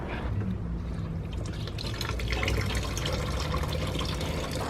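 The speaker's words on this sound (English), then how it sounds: "and you put water in there." Water pours steadily through a funnel into the coolant system of a 2016 Yamaha Raptor 700R ATV, with a soft gurgling, bubbling rush, fairly quiet and close, with no talking.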